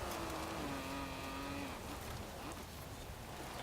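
A 1958 MG MGA Twin-Cam drifts in Forza Horizon 4 off-road play, its engine droning steadily with a sliding tire squeal and a wavering pitch as the car holds a long oversteer, loud and continuous with no voices.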